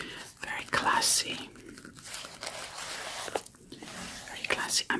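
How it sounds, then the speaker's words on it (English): Gloved hands handle and flip glossy Vogue magazine pages, producing soft crinkles, rustles and crisp paper sweeps up close, with a quiet whispering voice over parts of it. "I'm wearing these gloves for extra sounds on the paper."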